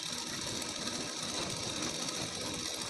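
A sewing machine runs steadily, stitching a double seam along the button and hook placket of an elbow-sleeve blouse, its fast even whir continuing throughout at a close, moderate level.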